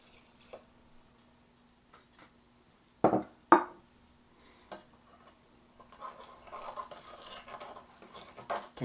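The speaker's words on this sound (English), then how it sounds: "I'm now going to add the 1/2 cup of soil to the bowl and stir it for a full minute." A spoon stirring soil and water in a bowl, giving sparse clinks and scrapes against the bowl, two sharper knocks midway, then a softer continuous gritty stirring toward the end.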